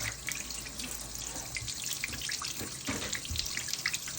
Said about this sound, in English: Alright, that's how you wash the turkey.